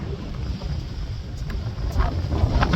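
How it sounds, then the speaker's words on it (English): Wind buffets the microphone in a steady low rumble with gusty surges, outdoors over Soldier Pass, California, with no one speaking. "Nice windy day."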